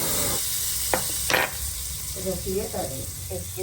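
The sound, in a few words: ghee tempering sizzling with urad dal, cumin, mustard seeds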